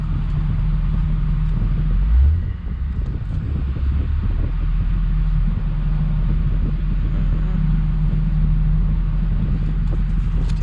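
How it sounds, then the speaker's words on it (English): A Toyota Supra Mk4 idling with its air conditioning compressor engaged, giving a steady close engine rumble with a low hum, a brief thump near the start, and no talk. "There's the compressor coming on"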